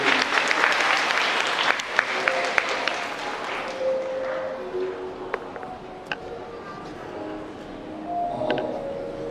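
Wedding guests applaud during the main ceremony, a dense burst of clapping that is loud at first and gradually thins to a softer patter, with a few voices and faint room sounds underneath.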